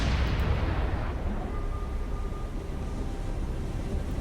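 Heavy naval guns in a War on the Sea game of Imperial Japanese ships, fired as a dense, continuous rumbling barrage with loud booming onsets and no talk.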